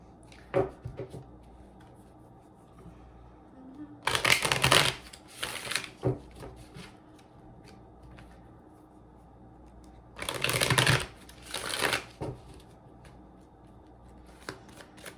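Osho Tarot cards shuffled and laid out on a surface: two brisk bursts of riffling and slapping a few seconds apart, with soft handling noises and quiet pauses between them.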